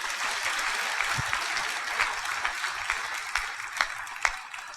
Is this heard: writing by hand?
no